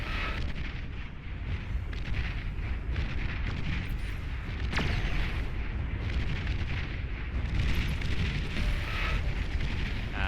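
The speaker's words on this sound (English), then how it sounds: "The self-destruct manages to take out that forward position" Heavy in-game explosion as a Juggernaut unit self-destructs in the strategy game Beyond All Reason, a loud, sustained rumbling blast with booming, artillery-like roar filling the whole stretch, no speech.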